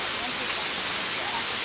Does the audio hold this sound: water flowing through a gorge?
yes